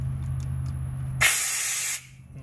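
Compressed air bursts from an opened moisture trap on an air compressor line in a workshop, a sharp loud hiss lasting under a second before cutting off, with a steady low motor hum beneath.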